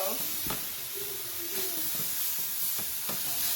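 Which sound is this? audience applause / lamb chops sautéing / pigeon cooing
lamb chops sautéing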